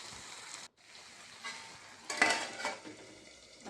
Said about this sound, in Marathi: आता छान मिक्स करून 5 मिनटं वाफवू द्यायची.